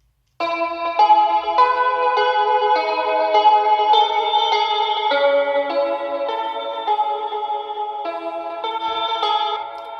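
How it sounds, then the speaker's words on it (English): A detuned, guitar-like synth plays a wavering chordal pattern drenched in chorus, echo and reverb, steady and shimmering throughout. "is a detuned guitarish sound and it sounds like this."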